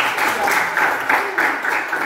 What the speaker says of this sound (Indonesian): Oke, tepuk tangan buat Aan.